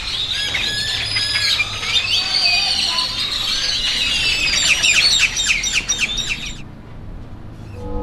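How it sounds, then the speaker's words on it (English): Several birds sing and chirp together in Central Park in a lively, overlapping chorus of high twittering notes, fairly close, before the singing abruptly stops near the end. "I'm listening to the birds here in Central Park"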